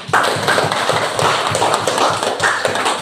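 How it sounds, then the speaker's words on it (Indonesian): Classroom applause for a student group, quick and uneven claps from a small group of pupils, close and fairly loud, in short rhythmic bursts with no talking. "sebelumnya kita kasih tepuk tangan dulu untuk kelompok 1"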